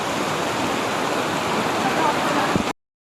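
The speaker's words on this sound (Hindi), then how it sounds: "पानी इस वक्त बहुत तेज़ है और ये आबशार" Rushing waterfall water at Moola Chotok in Balochistan, a loud, steady broadband roar filling the scene before cutting off abruptly near the end.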